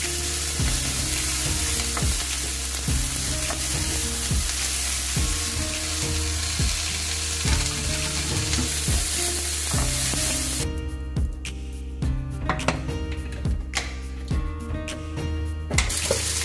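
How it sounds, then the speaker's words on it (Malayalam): Beef frying in coconut oil sizzles steadily and loudly throughout, with repeated scraping and stirring strokes from a utensil against the pan, and no talk. "ഇനി നമുക്ക് ബീഫ് ഫ്രൈ ചെയ്തെടുക്കാം."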